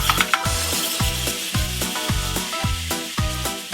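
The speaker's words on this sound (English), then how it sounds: "Don't need to put any oil in here because the mince has its own juices that the burgers will cook in" Beef mince burger patties fry in their own juices in a pan with no oil, giving a constant bright sizzle over a regular low, pulsing thump.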